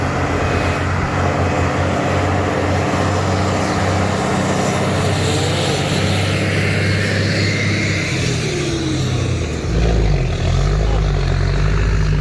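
A heavy turbocharged trailer truck engine climbing a hill drones steadily and loud, turbo whistling, its low rumble shifting pitch near the end as the load changes.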